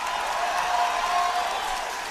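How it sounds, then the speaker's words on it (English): Audience applause in a crowded hall, a dense, steady wash of many hands clapping at once, fairly loud and continuous throughout with no voices standing out. "They're just clapping."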